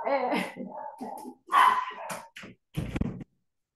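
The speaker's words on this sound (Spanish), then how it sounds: "Disculpen que todos en mi casa se han ido y me han dejado todos los perritos." Several dogs barking at home, a string of sharp barks and yips in close succession, loud and near, interrupting a spoken discussion.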